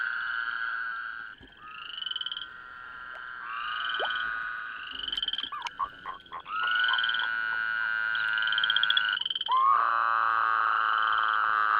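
Male Woodhouse's toads calling in a loud, continuous chorus of long sustained trills, several overlapping voices starting and stopping, close and dense with no talking.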